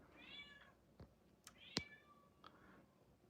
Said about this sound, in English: My cat is just she's being catty today.